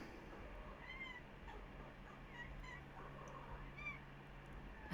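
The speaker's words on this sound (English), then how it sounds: "It's just my cat going absolutely crazy." A pet cat meows repeatedly indoors, giving several short, faint cries spread across a quiet room with soft background hum.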